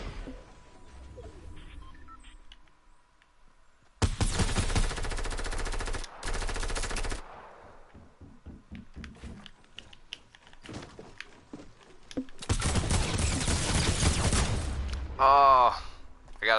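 AK assault rifle fire in Fortnite: two long, loud sustained bursts of automatic gunfire separated by sparse single shots and clicks, with a brief warbling game effect at the end.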